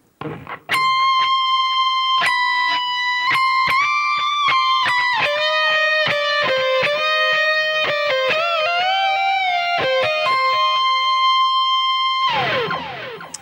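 Electric guitar playing the third solo phrase of a song, sustained high bends and vibrato over distorted lead tone, loud and continuous with a short noisy burst at the end.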